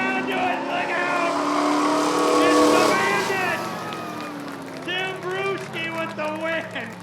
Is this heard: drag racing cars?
yes